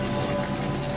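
Steady rain in the horror video game Outlast, a dense, continuous hiss of falling drops filling the scene without any voices.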